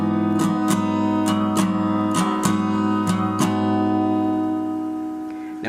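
Acoustic guitar strumming the chord pattern of a song, a steady down-up rhythm with ringing sustained chords and crisp percussive strum accents, close and clear, fading at the end, with no talking.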